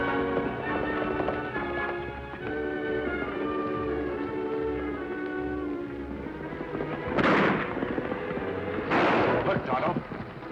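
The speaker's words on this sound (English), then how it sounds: "Me hear 2 or 3 horses running fast." Hooves clip-clop in a rhythmic pattern under orchestral music as two or three horses gallop fast, not far off. Two louder bursts of noise follow near the end.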